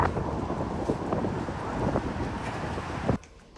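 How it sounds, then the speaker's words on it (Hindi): Strong wind buffets the microphone outdoors in a UK storm, a loud, steady broadband roar with gusty swells that drops away abruptly near the end as if shelter is reached. "बहुत ज़्यादा हवा चल रही है।"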